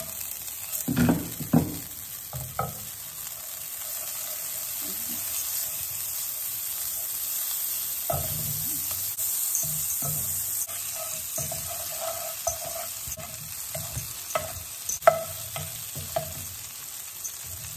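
Mushrooms frying in butter in a pan, a steady soft sizzle throughout with clinks of a utensil stirring and brief water splashes near the start.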